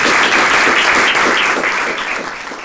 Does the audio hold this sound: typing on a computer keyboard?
no